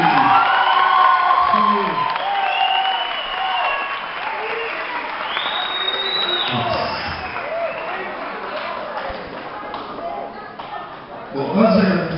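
A crowd at a 15th birthday celebration claps and cheers, with whoops and shouts in a dense, loud wash that slowly thins. A voice speaks over the fading applause, and the applause swells briefly again near the end.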